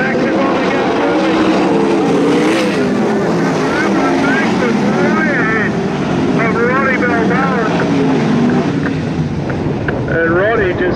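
Sprint cars in a heat race at Toowoomba Speedbowl roar through turn four toward the finish line, a dense, continuous, loud engine drone with rising and falling pitch under steady commentator talk.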